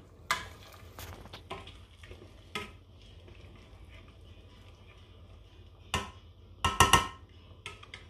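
Shrimp broth for tom yum soup simmers in a pot with a soft, steady hiss and faint bubbling, broken by a few sharp clinks of a utensil against the pot.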